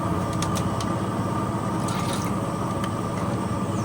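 Kewra water is poured into mutton biryani gravy, giving a steady, close trickling splash that runs without pause for a few seconds.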